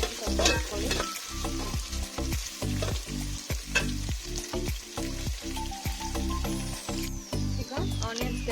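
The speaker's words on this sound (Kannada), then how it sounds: "ಅದಾದಮೇಲೆ ಅದಕ್ಕೆ ಆನಿಯನ್ಸು ಎಲ್ಲ ಹಾಕ್ಕೊಂಡು ಸ್ವಲ್ಪ ಚೆನ್ನಾಗಿ ಆನಿಯನ್ಸ್ ಕೆಂಪಾಗೋವರೆಗೆ ಸ್ವಲ್ಪ ಹಾಕ್ಕೊಳ್ಳಿ" Onions fry in a pan for white kushka until browned, loud crackling sizzle broken by regular scraping stirs in a steady rhythm, close up and without talk.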